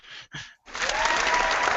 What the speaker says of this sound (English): Golf clap, golf clap.